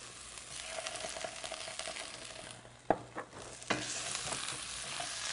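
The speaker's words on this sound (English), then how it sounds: "we'll stir that in" A spoon stirs tomato paste into softened onions in a pan, with a steady background sizzle of frying and a few sharp scraping clicks of the utensil against the pan, moderately close.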